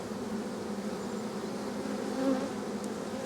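Honeybees buzz at a hive where queen cells are being built, a dense, steady drone close by with no voices.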